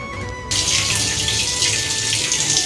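Hot water pours steadily from a tap in a bathing area. After a brief quieter start it becomes a continuous, fairly loud hissing rush with no voices.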